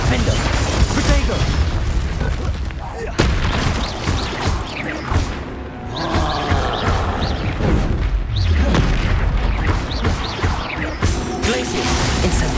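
Spell explosions from Incendio, Confringo and other combat spells in Hogwarts Legacy, a string of loud booming crashes and thuds with clanking mechanisms, coming in repeated bursts over a dozen seconds, with speech here and there.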